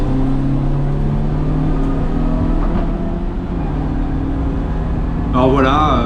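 A BMW E30 race car lapping the Castelloli circuit during a 24-hour endurance race, its engine holding a loud, steady droning note throughout, with a brief rising whine near the end.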